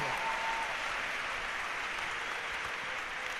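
Congregation in a church applauding for Jesus, a thick, even wash of many hands clapping together, sustained and fairly loud without a break.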